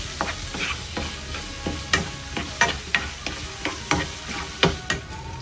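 Food stirred and fried in a pan after ground pepper goes in: a steady sizzle under repeated scraping and clacking of a utensil against the pan, close and fairly loud, with no talking.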